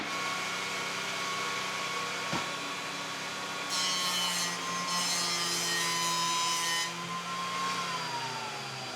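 A table saw rips 2x4 boards with an aggressive single pass per face, a steady loud whine with a harsher gritty cutting burst in the middle as the blade bites through the wood, then spinning down slightly.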